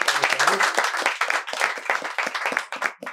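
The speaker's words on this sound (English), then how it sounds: "Please give a huge round of applause." Enthusiastic applause during a business group discussion session, dense close clapping that continues throughout with a voice briefly audible at the start.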